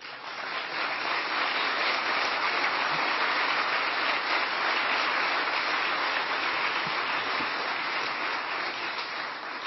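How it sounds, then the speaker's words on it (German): An audience at a lecture on food speculation, held at a summit of alternatives in Munich, applauds in a sustained dense clatter of many hands that swells slightly and holds steady for nearly ten seconds without talk. "Das verdient keinen Applaus"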